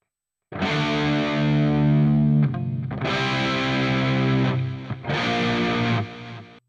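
A distorted electric guitar on an Ampero 2 Stomp, effects loop active with a Boss DD500 dual delay, plays three long sustained chords with short gaps between them, thick and processed with a shimmering effect.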